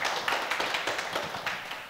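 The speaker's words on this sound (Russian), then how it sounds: "да, аплодисменты" A conference audience breaks into applause, a moderate room of rapid, evenly spread hand claps continuing for a couple of seconds with no talk over it.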